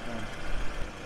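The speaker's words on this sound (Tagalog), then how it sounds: "So, ito yung tunog ng kotse pag nasa labas na." A noisy 2007 Toyota Camry engine idles outdoors, a steady low rumble that holds through the short stretch with slight swells in loudness.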